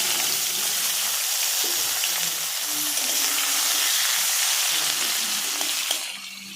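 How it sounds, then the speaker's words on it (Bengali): Onions sizzle steadily in hot oil in a pan for bhuna khichuri, a loud, even hiss that drops off slightly at the end. "লাল লাল করে ভাজা পর্যন্ত ওয়েট করছি।"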